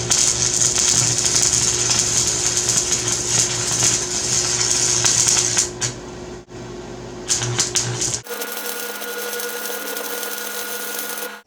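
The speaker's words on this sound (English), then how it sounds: "So I've just finished welding the bumper together." An arc welder joins a dune buggy's front bumper with a loud, continuous crackling hiss that briefly breaks off and resumes, then gives way to a steadier hum at the end.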